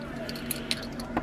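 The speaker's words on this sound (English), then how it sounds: "I got too many keys and I don't know where it's at." A bunch of keys jangles up close, with a few quick metallic clinks over a brief moment against a quiet background.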